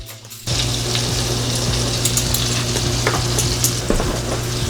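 Spices including cinnamon and ginger sizzle loudly in a hot pan as they are stirred, a steady close frying hiss with scattered scrapes and clicks, no talking.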